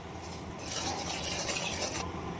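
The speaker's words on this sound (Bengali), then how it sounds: "সমস্ত মশলাগুলো খুব ভালোভাবে তেলের মধ্যে নেড়ে চেড়ে নিয়েছি, একটু কষিয়ে নিয়েছি।" Spices are stirred in hot oil with salt and sugar for paneer masala, a soft sizzle that swells into busier scraping and frying around the middle and then eases off, heard faintly and with no talking.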